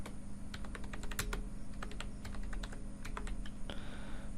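Fingers type on a computer keyboard in quick, irregular bursts of crisp clicking keystrokes, heard up close with no talking.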